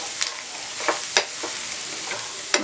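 Fried chicken lollipops being stirred into masala in a pan, a steady sizzle with a handful of sharp scraping clicks from the spoon spaced irregularly, close and moderately loud, no talking.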